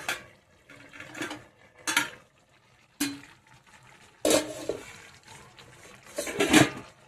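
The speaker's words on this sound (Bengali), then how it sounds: "এবার ঢাকনা তুলবো।" Lid lifted off a cooking pot of Bengali pachan greens, with a few separate metallic clinks and scrapes spaced across several seconds, the last ones louder, over a faint simmering hiss and no talking.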